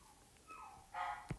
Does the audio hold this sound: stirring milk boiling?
no